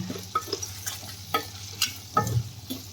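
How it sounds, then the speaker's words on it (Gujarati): Spices stirred into a pan of potato curry, with a spoon scraping and clinking in a few scattered strokes over a quiet low hum and a faint sizzle, nearby and moderately soft. "અને બધું જ સારી રીતે આપણે હલાવી લેશું"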